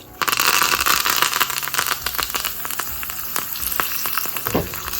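Mustard seeds spluttering and popping in hot oil for coconut chutney tempering, a loud dense crackling sizzle that bursts in abruptly and continues steadily with sharp pops scattered across it.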